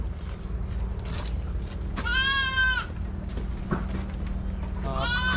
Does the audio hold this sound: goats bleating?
yes